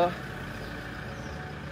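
A vehicle engine idles just after starting, a steady low rumble close by, with a voice speaking over it.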